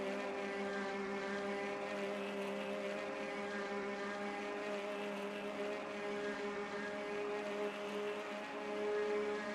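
A race car in a 24h of Le Mans video game holding full throttle, its engine a steady, loud, high droning whine with no pauses, heard alone.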